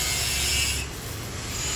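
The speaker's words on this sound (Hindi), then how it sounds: "जो भी ये बोल्ट वगैरह नट बोल्ट होते हैं वो निकालने स्टार्ट कर दिए हैं" Metal fasteners being worked loose from a seat in a new Mahindra Thar, giving a steady broadband rasping and rubbing with a low hum beneath, fairly loud and close, easing slightly partway through.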